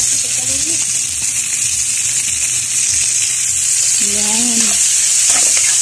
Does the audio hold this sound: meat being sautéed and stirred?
yes